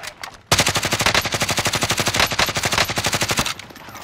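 Sustained automatic gunfire from Call of Duty: Modern Warfare, a loud, rapid burst of evenly spaced shots lasting about three seconds, starting abruptly and cutting off with quieter background noise before and after.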